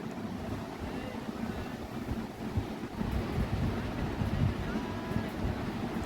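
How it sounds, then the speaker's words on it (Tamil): A boat passes on the sea off Moyenne Island, its low engine rumble steady beneath heavy wind buffeting and wave wash, swelling slightly louder toward the end. "அப்புறம் எங்களுக்கு ஆப்போசிட்டில் ஒரு போட் ஃபாரினர்ஸ் அதில் வந்துட்டு இருந்தாங்க."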